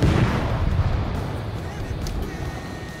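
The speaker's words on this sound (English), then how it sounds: "he's opening up with the guns" Heavy warship main-battery guns booming in World of Warships naval combat, a dense low rumble of a salvo at the start that decays into a sustained roar over the rest.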